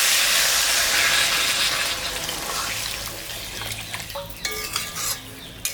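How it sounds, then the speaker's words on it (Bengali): Water is splashed into a hot pan of sautéed masala for a fish curry with potato and eggplant. A loud, close hissing burst of steam gradually fades, followed by scattered clinks of stirring, with no talk. "আমি এখন জল দিয়ে দিব"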